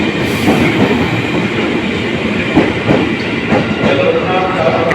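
A commuter train bound for Depok rumbles past close by, its wheels clattering rhythmically over the rails in a loud, continuous roar.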